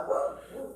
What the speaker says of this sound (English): the dog is barking in the back